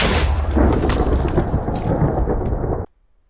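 Lightning-driven thunder in the Minecraft video game rumbles loud and close as one continuous rolling crash for nearly three seconds, then cuts off abruptly into silence.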